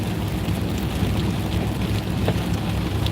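Rain falls on a car as it drives, a dense and constant patter and hiss over a low road rumble, with a few sharper drops standing out.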